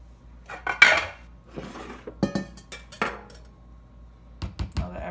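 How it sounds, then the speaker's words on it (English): Homemade gel fish food mixture worked with a whisk in a large bowl, giving bursts of metallic clinking and rattling against the bowl separated by short quiet gaps. "And a whisk."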